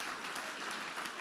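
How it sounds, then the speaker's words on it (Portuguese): A church congregation claps together in a brief, fairly faint burst of steady applause with no speech over it. "dê uma linda salva de palmas para o Senhor Jesus"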